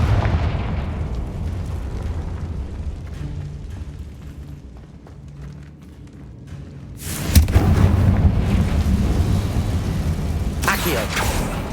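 Confringo blasting spell explosions in Hogwarts Legacy rumble under a low game soundtrack, building to a loud burst of booming blasts partway through and a second sharp blast near the end.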